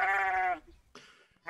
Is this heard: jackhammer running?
no